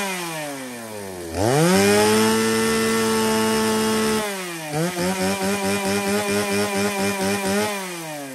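A Shindaiwa 360 chainsaw idles, then revs sharply to a loud, sustained high-speed whine. It drops back and is blipped in rapid, pulsing bursts before settling again, running alone and close by.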